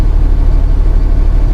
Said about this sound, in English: So let's assume we were just driving the vehicle